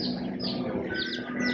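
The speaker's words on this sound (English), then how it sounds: "they have chicks." Chicks in a Tractor Supply store cheep in a chorus of high, thin peeps repeating irregularly over a steady indoor hum, moderately close and without speech over them.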